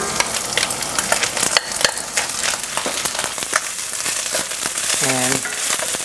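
Rice stir-fried with salted fish in a pan gives a close, steady sizzle with frequent scraping and tossing clatters from the spatula, and a brief tonal squeak near the end, with no one talking.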